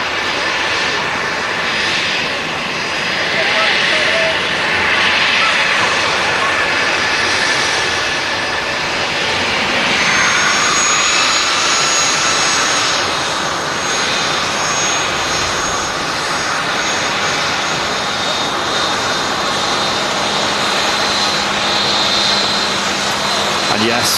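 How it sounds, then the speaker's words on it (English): A Legacy 600 business jet at Manchester Airport gives off a loud, broad engine roar that holds steady throughout and swells slightly in places, with voices talking over it. "A Legacy 600 aircraft."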